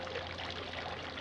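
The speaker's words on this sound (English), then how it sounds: "I also have some cute little ice cubes in my cup, and I'm gonna give her a pour" Mai Tai punch pours into a cup of ice cubes in a soft, continuous trickle for just over a second, quiet and close with no talking.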